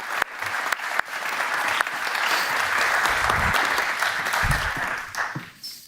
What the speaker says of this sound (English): Give them a round of applause as they make their way back in.